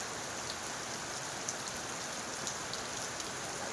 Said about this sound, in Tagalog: Ayan naman, napakalakas yung ulan.